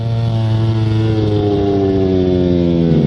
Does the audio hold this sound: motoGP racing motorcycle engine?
yes